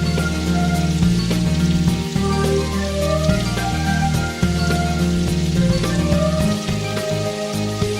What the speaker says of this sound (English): listening to the sound of the rain hitting the shelter I stood under